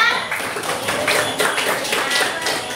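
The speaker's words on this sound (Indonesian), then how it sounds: "Oke, tepuk tangan untuk kelompok apa?" Students in a classroom clap for a presenting group, a brief burst of brisk, uneven hand claps close by, steady in level throughout.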